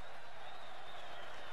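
Packed crowd of São Paulo fans cheering and applauding inside Morumbi stadium during a football final, a dense continuous roar heard from a distance, with a commentator's voice faintly over it.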